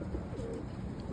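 Roller pigeons coo in a low, soft, steady murmur, close by with no talk.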